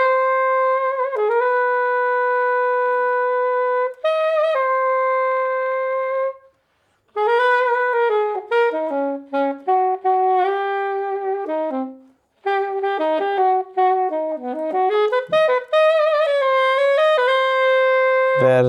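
Solo saxophone recorded in a studio through a black passive Coles 4038 ribbon microphone, playing a melodic line of sustained and quick phrased notes with brief pauses between them, close and clear with no talking.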